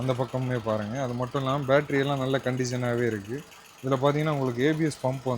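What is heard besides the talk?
No everyday noise stands out behind the speech.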